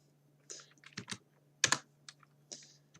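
A short command is typed on a computer keyboard: several distinct, close key clicks in an uneven rhythm, including a quick double tap, heard alone over a faint low hum.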